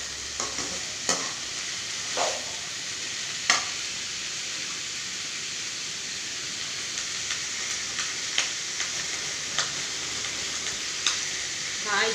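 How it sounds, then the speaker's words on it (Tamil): Carrots, vegetables and egg sauté in a pan at home with a steady sizzle throughout, broken by occasional clinks and scrapes of a stirring spoon. "காய் நல்லா வதங்கட்டும்"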